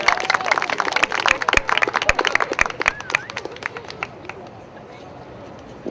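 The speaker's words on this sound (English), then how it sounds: "Give him a round of applause" Applause from an audience at a live storytelling event: dense, continuous clapping that is loud for about four seconds and then thins and fades, with some crowd murmur.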